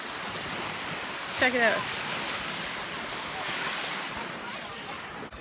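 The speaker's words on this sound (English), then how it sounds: "you can hear the waves" Ocean waves wash steadily onto a beach at a busy family gathering, a continuous surf roar with some wind across the microphone, while a voice speaks briefly partway through.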